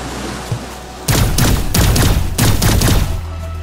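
Pistol fire in the sci-fi game Cygnus Enterprises: a quick run of loud, close shots in two clustered volleys over about two and a half seconds, with a steady hum underneath and no talking.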